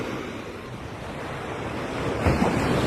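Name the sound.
sea waves at a beach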